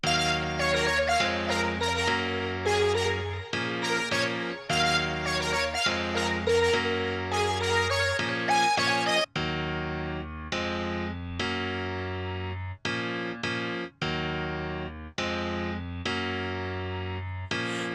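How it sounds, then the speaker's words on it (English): Bright, layered piano chords play in a steady rhythmic pattern over a sustained low bass, changing every few beats, with short breaks between chord groups, alone and clean in a studio production of a song. "the next thing I did was play the chords to the sample"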